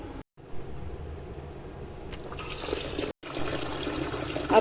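Rice being washed in water for cooking, with a continuous splashing and trickling of water and the louder gush of pouring near the end, with two brief dropouts.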